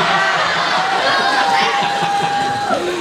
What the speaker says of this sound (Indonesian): Berikan tepuk tangan dulu kepada Delia yang telah menyampaikan pertanyaan